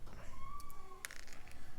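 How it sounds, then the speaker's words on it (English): A house cat meows a few times nearby in a quiet indoor room, short rising-and-falling cries heard alone with no talk over them. "Wow, wow, wow, says the cat."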